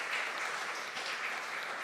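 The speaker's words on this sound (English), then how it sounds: "give a clap to Federico and his team." An audience claps for a winemaker and his team during a Prosecco wine presentation at a wine week event in Milan, with continuous, moderately loud applause sustained across the whole stretch.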